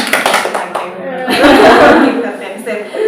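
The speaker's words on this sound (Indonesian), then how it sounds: "Tepuk tangan." A small counseling group claps hands on cue, a short burst of claps mixed with chuckling and laughter while people talk.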